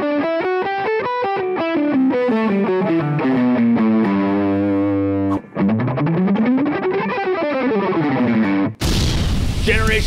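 Fast distorted electric guitar economy-picking runs go up and down in quick single notes, loud and busy, ending in a burst of noisy clutter.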